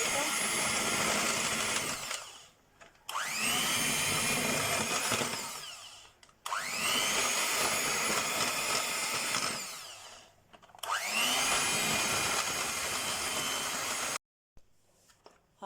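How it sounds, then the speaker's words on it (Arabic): An electric hand mixer beats ghee in three long loud whirring bursts, each with a rising whine as it speeds up, separated by short pauses. "هنا جبت المضرب كده، هفكك السمنه معايا شويه بسيطه"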